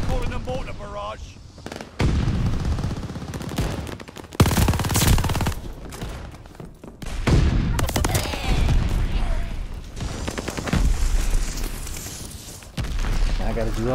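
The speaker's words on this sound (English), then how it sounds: "Allies calling a mortar barrage." A mortar barrage in the video game Call of Duty: Vanguard, heavy booming impacts mixed with rapid machine-gun fire in loud bursts, with a voice speaking over the battle.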